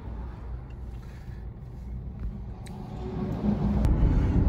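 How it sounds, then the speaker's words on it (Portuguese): A car engine idles steadily while stopped in a long traffic halt on a Brazilian road trip, a low continuous rumble that swells slightly toward the end, with no talking. "Eu não desliguei o motor do carro para o relógio continuar"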